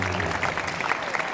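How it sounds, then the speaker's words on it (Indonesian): Brief burst of audience applause at a Ramadan stage show, dense continuous clapping from a crowd, moderately loud and close, with no break in the short stretch. "Tepuk tangan dulu"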